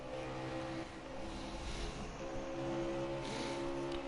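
Stock car engines drone steadily on the Chicagoland oval, a sustained high-pitched whine rising slightly as cars pass, with no voices.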